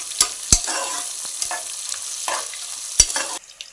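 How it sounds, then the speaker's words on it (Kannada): Onions frying in oil in a pan for chicken biryani, a soft sizzle broken by a few sharp spoon clinks and scraping strokes, close and fairly loud, with no talking. "ನಾವು ಇವಾಗ ಈರುಳ್ಳಿ ಹಾಕ್ತಾಯಿದ್ದೀವಿ. ಅದು ಲೈಟ್ ಬ್ರೌನ್ ಕಲರ್ ಬರೋವರೆಗೂ ಫ್ರೈ ಮಾಡ್ಕೊಳ್ಳಿ"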